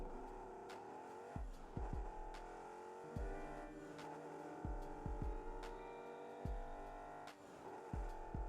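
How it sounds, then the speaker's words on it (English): A car engine in the video game Rocket League drones and hums steadily with repeated low thumps and shifts in pitch, like gear changes. "we'll listen to the engine noise"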